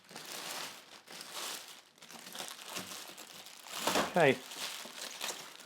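A plastic bag is pulled off a Delonghi Magnifica S Plus ECAM 22.320.SB coffee machine during unboxing, with soft rustling and a louder crinkling burst near the end, and someone speaking briefly.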